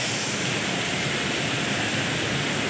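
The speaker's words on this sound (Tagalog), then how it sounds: "ang ulan, napakalakas." Heavy rain pours down during a typhoon, a loud, steady, unbroken hiss of downpour close by, with no breaks for the entire stretch.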